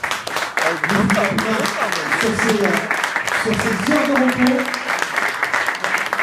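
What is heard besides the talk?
applause for a friend who helped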